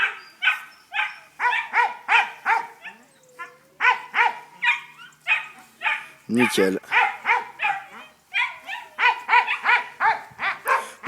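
Several dogs bark, yip and whimper in rapid repeated bursts close by during a desensitization session for dog aggression toward other dogs, with a person speaking briefly between barks.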